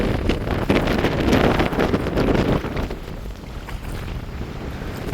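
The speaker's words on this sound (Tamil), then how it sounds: "காற்று அதிகமாக இருக்குது" Strong coastal wind buffets the microphone in loud, gusting rushes, with a surf-like wash beneath, steadiest early and easing slightly later.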